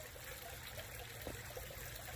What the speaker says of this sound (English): I'm going to use that to gently rinse down the material out of the sluice into the pan